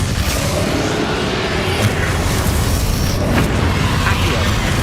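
Bombarda spell exploding in Hogwarts Legacy, a heavy sustained boom with rumbling battle noise, loud and continuous throughout, with a voice talking over it.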